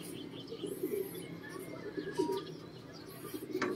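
Pigeons coo softly in short bursts, with a few faint chirps over a low background hum in an outdoor pigeon-racing setting.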